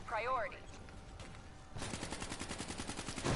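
Gunfire in the video game Call of Duty Black Ops 3: a brief warbling electronic sound, then from about two seconds in a dense, rapid stream of automatic shots that keeps going steadily to the end.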